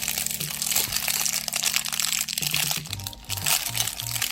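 Cardboard and plastic packaging of a Pokemon ZGO smartwatch box being opened, with close continuous crinkling and crunching, a few sharp cracks, and a faint background hum.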